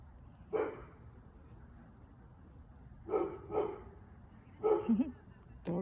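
At night a dog barks at a family of raccoons, a few short bursts, single and doubled, spaced out over a quiet background and heard from a moderate distance.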